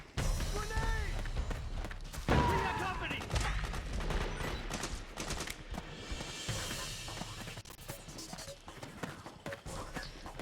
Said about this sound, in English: Oh, they're all shooting each other now anyway.